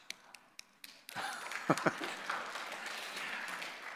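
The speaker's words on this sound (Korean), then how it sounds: "박수 한번 쳐보시죠" Church congregation clapping hands during a Sunday service sermon: a few sparse isolated claps, then a burst of scattered applause swelling across the room and lingering.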